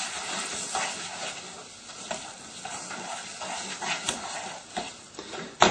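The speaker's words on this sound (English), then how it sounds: "Now to give this a proper stir, I'm just going to grab the handle, turn it round, so I'm going to just get this all nicely melted" Chocolate being stirred as it melts in a pan for a raspberry jello chocolate cake, a steady soft hiss with scraping strokes and occasional clinks of the utensil, close and fairly quiet, no talking.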